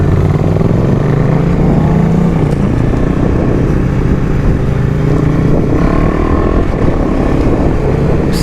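A KTM Duke motorcycle engine drones continuously while riding, a loud close-up rumble with a shifting pitch as revs rise and fall, mixed with wind rush over the microphone.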